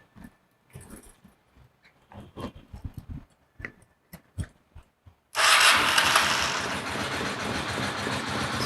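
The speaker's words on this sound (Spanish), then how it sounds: "Encendemos nuestra moto" A Honda Steed motorcycle is cranked with a few uneven clunks and turnover attempts, then catches and settles into a loud, steady idle that runs on without revving, close by.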